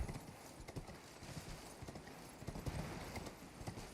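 Hooves clip-clop in a quick, steady rhythm, faint and slightly muffled, like a horse trotting along with light background noise, in the video game Elden Ring.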